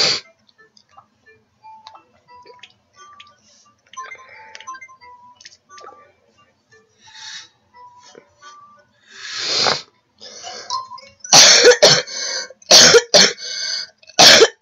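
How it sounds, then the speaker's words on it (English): Coughing from a person who is sick: a cluster of loud, harsh coughs bunched toward the end, following a stretch of faint ticking and clicking sounds. "Sorry about the coughing again."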